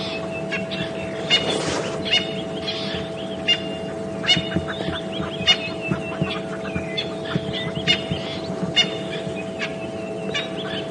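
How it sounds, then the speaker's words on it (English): Birds call in agitated alarm near lions on a safari drive at Djuma Game Reserve, repeated sharp chirps and clucks scattered throughout over a steady low vehicle hum. "all the birds are very upset to have these predators in their vicinity"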